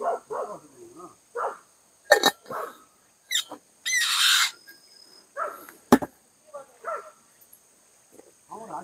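Two dogs bark a few times in short, sharp bursts at moderate distance, interspersed with people talking outdoors near a chestnut tree in a village.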